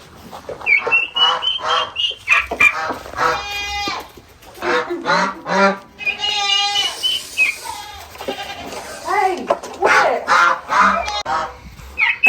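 Loud, repeated honking and squawking from geese and ducks close by, with a brief spoken remark among the calls.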